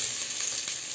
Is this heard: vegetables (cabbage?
yes